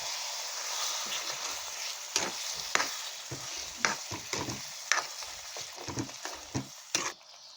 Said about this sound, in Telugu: ఇప్పుడు కొబ్బరి జీడిపప్పు పేస్ట్ వేసుకోవాలండి. వేసి ఇది కూడా కొంచెం వేయించాలి